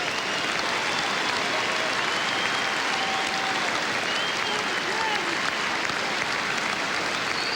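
Sustained, loud applause from a large crowd at a state wrestling championship match, a dense continuous clapping roar filling the arena without a break.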